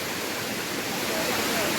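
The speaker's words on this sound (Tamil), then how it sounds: "தண்ணி அப்படி அருவி மாதிரி கொட்டி போகுது பாருங்கள்." Agathiyar waterfall pours through the forest, a loud, dense, unbroken roar of rushing water that fills the whole moment at close range, with no voices rising above it.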